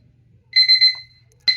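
A Vicsoon night light alarm clock sounds a shrill electronic alarm tone that pulses in a quick burst, falls silent, then starts again loudly over a faint low hum.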